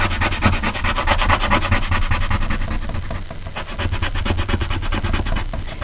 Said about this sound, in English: Yes, that's me shaking my whole table.